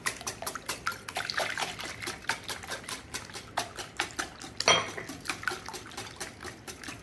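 Two eggs with whole milk are beaten in a bowl for an old-fashioned Southern chocolate chess pie, giving a quick, rhythmic run of light clinks and taps of the utensil against the bowl, fairly close, with no voices.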